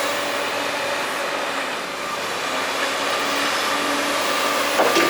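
A Case heavy machine, likely after a CX490 excavator dig, pushes dirt back into a deep hole, giving a steady broadband engine and hydraulic roar that holds loud and constant throughout.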